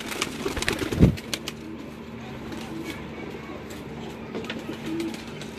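Lal Toofan pigeons on a rooftop loft give low, soft coos throughout, with a sharp thump or wing flap early on and a voice talking at times over the birds.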